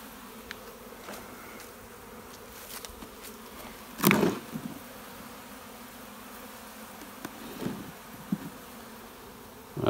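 A honeybee swarm hums steadily around an old brood comb swarm lure outdoors, a continuous insect drone with a few louder buzzes as bees fly close by.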